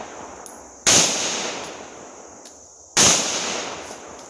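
A C96 Broomhandle Mauser pistol fires two sharp, loud cracks about two seconds apart, each trailing into a short echoing decay at an outdoor range.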